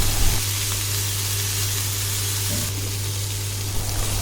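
A soft, steady sizzle of cauliflower sautéing with masala in a pan runs throughout, with a low constant hum beneath it.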